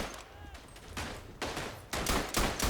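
Bursts of machine gun fire ring out in the World War I game Verdun, coming in several uneven volleys of rapid shots at moderate loudness, with a faint voice underneath.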